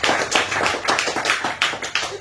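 A church congregation claps in a quick, uneven rhythm with cheering, loud and close, the claps running in bursts over a couple of seconds.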